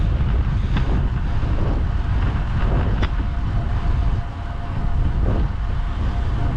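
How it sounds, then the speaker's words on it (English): Steady, blustery wind buffeting the microphone, a loud low rumble throughout with brief gusts, no voices. "yeah, it's quite windy"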